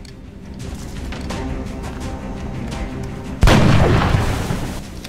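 A single heavy sniper rifle shot in XCOM Enemy Within cracks out loud and close after a steady hum of game ambience, then trails off in a long rumbling decay.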